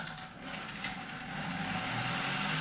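Motor-driven Lego bolt gun spinning at low speed, about 1700 RPM at 10% power, a faint steady whirring hum that slowly builds over a few seconds, with no one talking.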